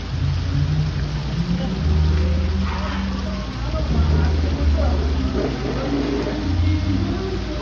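Steady rain falls outdoors in Baler as a dense, continuous hiss of drops on surfaces, with voices speaking over it now and then.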